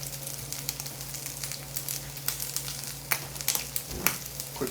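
Sausage pieces sizzling in a cast iron pan, a steady close crackle of frying with scattered pops and occasional scraping stirs, no voices.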